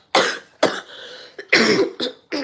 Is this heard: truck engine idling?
no